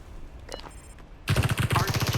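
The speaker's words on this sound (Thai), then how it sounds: "ใครยิงมาฝั่งนู้นเหรอ" Gunfire in a PUBG-style battle royale shooter game: a few faint distant pops, then a loud rapid automatic burst of close shots that fills the last second.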